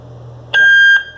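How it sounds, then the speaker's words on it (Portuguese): A Yoosee security camera emits one loud, clear electronic beep about half a second long after its reset button is pressed, against a faint low hum. "agora que a gente já colocou a câmera no modo de bip"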